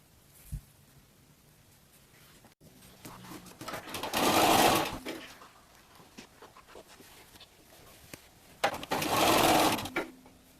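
A sewing machine zigzag-stitches the edge of a homemade flamingo Halloween costume, running in two loud sustained bursts separated by quieter handling noise, with no talking.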